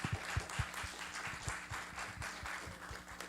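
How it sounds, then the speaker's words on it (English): Audience applause at a community meeting: steady, moderately loud clapping from a seated crowd that holds evenly for a few seconds. "First, can we give Gavin a round of applause?"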